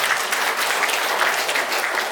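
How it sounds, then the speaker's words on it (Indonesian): Steady, dense audience applause at a religious healing gathering, filling the whole moment at an even loudness with no pauses. "Tepuk tangan yang luar biasa."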